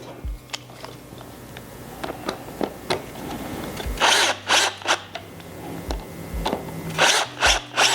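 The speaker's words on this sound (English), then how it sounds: "So I'm going to reapply these new screws in." A power screwdriver drives new screws into a plastic battery compartment of a Grabo remote, making short whirring bursts with clicks and gaps between them, close and fairly loud.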